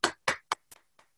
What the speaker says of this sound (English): I'll applaud a bit in welcoming Justice Leah Ward Sears